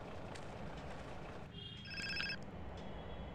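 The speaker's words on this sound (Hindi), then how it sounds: "ये क्या फ़ोन आ गया फिर से?" Phone ringing in GTA San Andreas, a short burst of high electronic ringtone tones partway through, heard over steady loud game background noise.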